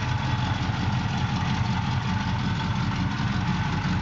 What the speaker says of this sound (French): l'engin tourne bien, le moteur tourne bien.